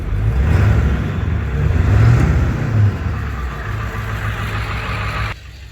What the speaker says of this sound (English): Revs up nice and smooth.